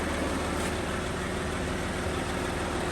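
A 2.5 V6 TDI diesel engine in an Audi A6 idling steadily, with a dense, even mechanical drone and vibration that stays constant for a few seconds, heard up close with no voices.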